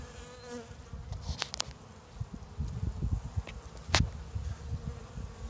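Carniolan honey bees at a hive entrance, bringing in pollen, make a close, steady buzzing drone, with individual bees flying past the hive now and then.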